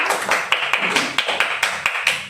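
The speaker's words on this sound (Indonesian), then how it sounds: "Tepuk tangan dulu untuk kita semua" Rhythmic claps from a group in a classroom, a steady run of sharp, bright hits lasting a couple of seconds, fairly close and without talk.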